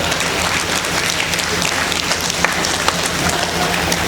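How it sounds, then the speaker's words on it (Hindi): Audience at a Hindi comic poetry recital clapping steadily, a dense even patter of many hands with a few sharper claps standing out, loud and close. "और यही बजाओ ताली।"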